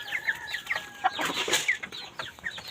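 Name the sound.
chicken clucking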